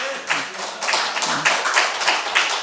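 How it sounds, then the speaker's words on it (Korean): A church congregation at a Sunday morning service claps in encouragement. The clapping is brisk and uneven, with many hands close by, and continues for a couple of seconds with no talk over it. "격려에 박수 해야 돼요, 말아야 돼."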